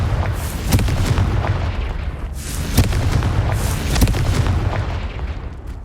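Confringo blasting spell in Hogwarts Legacy, loud booming explosions bursting repeatedly over a dense rumbling, chaotic battle din.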